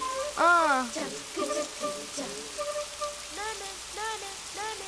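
Soft, steady rainfall patters outdoors at low volume, with faint voice-like or bird-like tonal calls rising intermittently above the drizzle.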